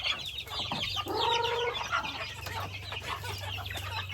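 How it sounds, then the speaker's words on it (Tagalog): Hens on a farm cluck and squawk in rising calls close by, with a low steady hum underneath and no talk. "Tatanaw mga manok oh."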